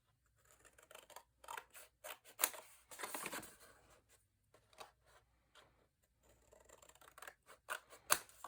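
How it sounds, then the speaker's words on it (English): Scissors cutting paper for a handmade mini album: quiet, close snips in short irregular runs with a longer slicing stretch midway, all in a still room. "I'm going to cut right through where these two lines intersect"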